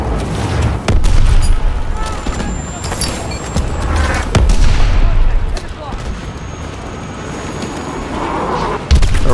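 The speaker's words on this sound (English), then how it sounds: "Pressure explosions! This place is going up!" Pressure explosions and gunfire in Call of Duty: Advanced Warfare, deep booms and cracking shots layered over a loud continuous rumble, with soldiers' voices shouting among the blasts.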